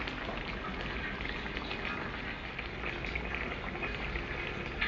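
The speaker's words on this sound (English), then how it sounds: "This is the vegetables simmering, about to boil, with a little butter." Vegetables with vegetable spread simmer in a pot on the verge of boiling, a faint, even bubbling hiss that continues steadily with no voices.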